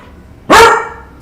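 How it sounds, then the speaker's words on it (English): A single dog bark rings out close and loud indoors, one sharp burst with a short trailing tail, standing alone against a quiet room background. "Sorry, the dog is barking."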